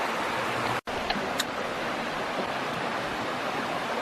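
A slow-moving small waterfall in Michigan's Upper Peninsula trickles down rock, a steady soft wash of water with a brief dropout and a couple of faint ticks.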